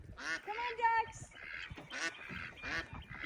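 A few ducks quack in short bursts close by on a farm, separated by brief pauses, with faint background noise between calls.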